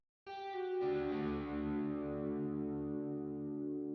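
A single sustained electric guitar chord rings out with light overdrive grit and a spacious Valhalla Room reverb tail, fading slowly after a brief clean note.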